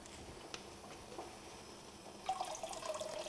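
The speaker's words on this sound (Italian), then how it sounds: "gli aggiungiamo della salsa di soia" Soy sauce poured into a pot of water while preparing a cold kombu broth, heard as a faint, steady liquid trickle that swells a little louder toward the end.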